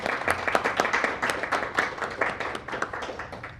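A short round of applause at a quarterly meeting: several people clap together in a brisk, even patter that stays steady for a few seconds before tapering slightly.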